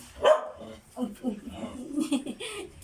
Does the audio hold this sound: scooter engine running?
no